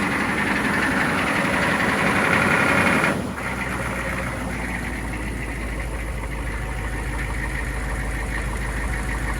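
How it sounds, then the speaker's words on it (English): 1998 AM General Hummer H1 engine idling at raised RPM, a loud steady low rumble that shifts to a deeper, even drone partway through, with no talking. "the idle goes up to 1200 RPM or so from about 800"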